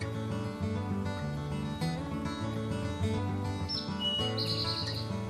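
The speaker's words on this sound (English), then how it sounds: "the wood thrush from his low perch," A wood thrush sings from a low perch in the woods, fluting phrases ending in a high trill, heard over a steady background of sustained instrumental music tones.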